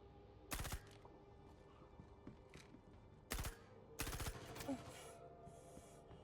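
Short bursts of automatic machine gun fire ring out in the Star Citizen video game inside the Onyx Facilities at Site B. Three rapid, fairly faint volleys stand apart from a quiet background.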